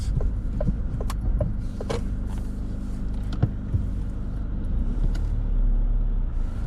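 Car driving on a busy road in Hinckley during a driving test, its steady engine and road rumble continuous and close with no speech.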